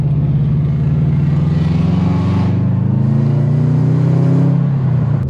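A Subaru WRX's EJ engine rumbles steadily with a low, throaty drone, rising slightly in pitch as it revs under load, no voices.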